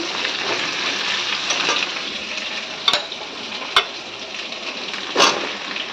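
Pointed gourd frying in a pan with a loud, steady sizzle, interrupted by a few sharp clicks of a utensil against the pan.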